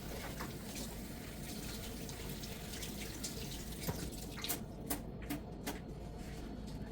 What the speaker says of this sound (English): so I'm going to give this a good quick rinse here.